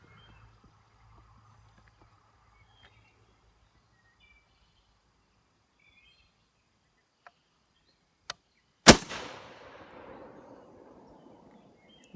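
A single Lee Enfield bolt-action rifle shot on an outdoor range, sharp and loud after near silence, with a ringing tail that fades over a couple of seconds.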